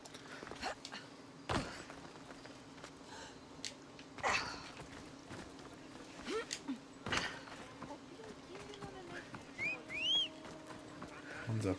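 A horse in the video game Assassin's Creed Odyssey gives soft, scattered hoof clops and snorts, faint and low under ambient game noise.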